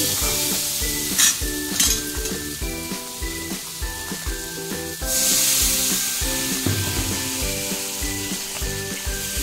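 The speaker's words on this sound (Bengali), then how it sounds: "এবারে জল দিয়ে দেব।" Water poured into sizzling fried spices and pointed gourd in a pan for a fish curry, with continuous loud hissing and rhythmic stirring scrapes, then a burst of steam hiss.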